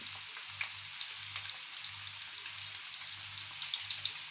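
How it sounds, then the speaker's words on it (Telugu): Paneer pieces frying in hot oil in a pan for paneer masala curry, a steady close bright hiss and crackle over a low hum, with no voices. "మన పన్నీర్ పీసెస్ ఫ్రై అవుతున్నాయి"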